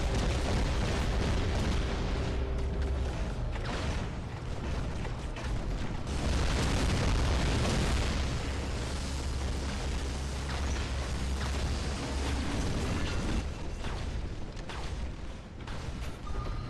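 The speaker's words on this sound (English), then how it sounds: "Thank you for shooting into my shield." Weapons fire from War Robots mechs hammers against an energy shield: a dense, loud, continuous wall of booming impacts and mechanical clatter with no pauses.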